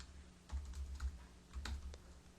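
Quiet, close clicks of typing on a computer keyboard, a couple of short bursts of several keystrokes each separated by a brief pause, with no voices.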